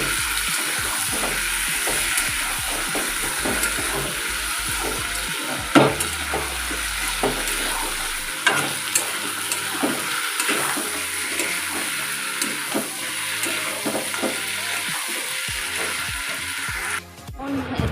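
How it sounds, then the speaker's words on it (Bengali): Meat frying in a pan at home, giving a steady close sizzle with scattered clinks and scrapes of stirring, without speech. "মাংসটা একটু ভাজা ভাজা হয়ে যায়"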